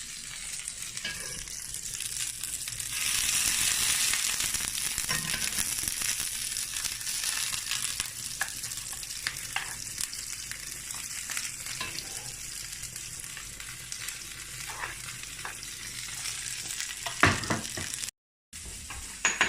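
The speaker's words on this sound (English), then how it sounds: "I'm going to pop my prawns in, and I'm going to toss the tagliatelle around." Prawns and tagliatelle tossed together in a pan give a continuous soft sizzle with rustling, scraping movement, fairly close and steady throughout, with no one speaking.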